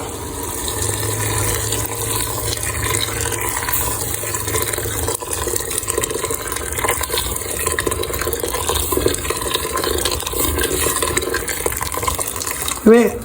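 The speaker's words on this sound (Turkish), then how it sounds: "Ve suyumuzu ekliyoruz." Water poured into a cooking pot of Turkish yogurt soup, a continuous splashing, gurgling stream heard close, with a brief clatter at the end.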